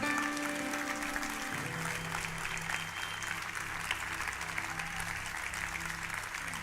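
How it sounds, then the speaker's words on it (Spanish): A church congregation applauds, with sustained crowd clapping over a low musical hum and sustained tones underneath. "yo lo voy a pedir un aplauso para el Señor"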